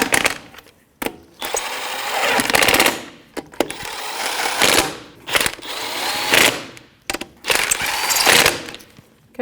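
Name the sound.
ratchet snugging Jeep Patriot lug nuts with 19 mm socket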